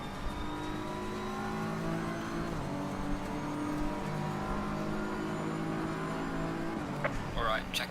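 A damaged racing car limps around Suzuka in a racing video game, its engine a steady droning whine that holds pitch, dips briefly, then settles, with a faint shift near the end.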